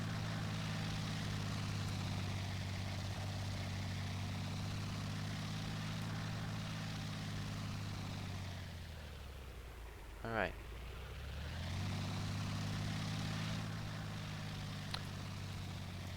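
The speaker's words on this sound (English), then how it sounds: "the engine is currently running, the wheel's spinning." Game vehicle engine idling steadily with its wheels spinning, a droning hum that dips and rises again midway, with a brief voice near the middle.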